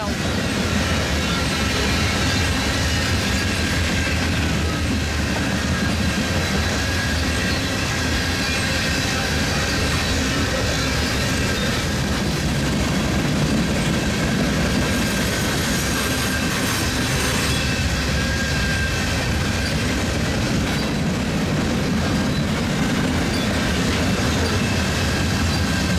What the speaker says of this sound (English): That's a nice catch of that train that went to an emergency in Quarry, Iowa